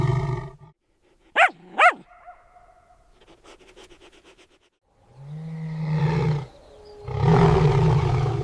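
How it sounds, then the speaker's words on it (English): A lion delivers several rough, deep roars and growls: two sharp rising calls early, then a rumbling stretch and two long, loud, throaty roars close by, with quiet gaps between them. "A deep, earth-shaking feline roar erupts."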